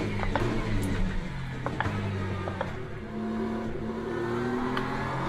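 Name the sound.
BMW M4 race car engine driving at Spa, from video game Le Mans Ultimate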